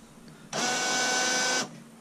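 Car windscreen washer pump on a Ford Fiesta ST spraying water through a fan jet nozzle: a steady, loud, broadband hiss of about one second that starts and stops abruptly, with no talk.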